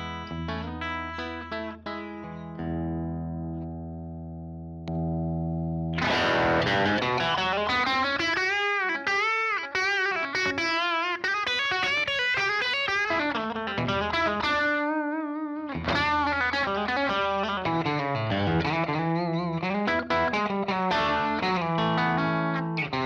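Electric guitar through a V1 Duchess boost pedal driving a saturated amp: a few clean sustained chords, then louder distorted riffs and bends, with a short pause midway.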